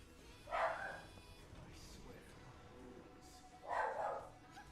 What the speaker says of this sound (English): That's my dog, I love him.